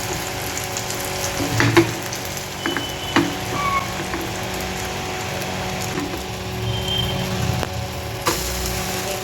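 An egg omelette frying in a kadhai, a steady close sizzle with occasional louder pops and crackles and no talking.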